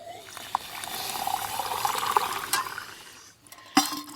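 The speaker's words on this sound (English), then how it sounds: "Then I come over here and I fill it with water." Water running into a container being filled for a meal, a steady trickling pour for about three seconds before it stops, followed by a brief clunk.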